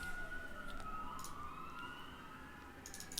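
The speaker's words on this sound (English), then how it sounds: "And there are sirens all day." Emergency vehicle sirens wailing outside, faint and distant, with rising and falling tones sweeping through a few seconds over low background hum and light clicks nearby.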